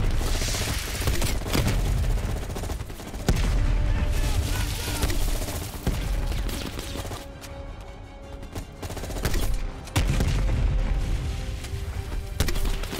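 Weapons fire in Call of Duty Black Ops Cold War during a defence against a VC attack: repeated bursts of gunfire and heavy booms crackle steadily, with sharper blasts standing out over the din.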